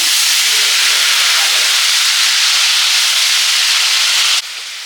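Cumin and chopped tomato pieces sizzle in hot oil in a village-style kitchen, producing a loud steady hiss that drops suddenly to a quieter sizzle near the end.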